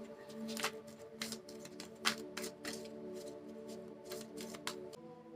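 A deck of advice cards is shuffled by hand, with repeated crisp riffling bursts and flicks at close range, fairly quiet overall.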